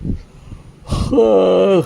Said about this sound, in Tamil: அப்படி கொட்டாவி வருது.